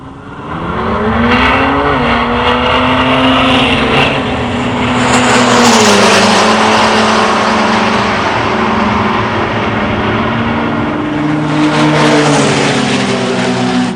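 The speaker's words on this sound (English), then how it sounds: "A battle of 1987 Buick GNs. Bill Nuss in black and Dave Camerata in white." Two 1987 Buick GN cars accelerate hard down a drag strip, their loud engines holding a sustained roar with rising, shifting pitch and a brief dip between gears.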